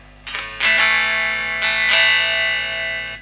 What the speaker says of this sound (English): This is now on the wimpy bridge pickup.